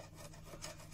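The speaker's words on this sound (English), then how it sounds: "So I'm just chiseling from this, the centre of this, down into that channel." A chisel scrapes and rubs through wood on the plate holder of an old Watson camera under restoration, a faint, close, rasping pass lasting about a second.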